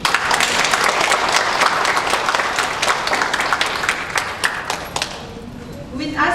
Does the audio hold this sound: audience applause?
yes